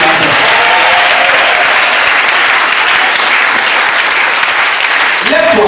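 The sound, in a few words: audience applauding and acclaiming Jesus at a church service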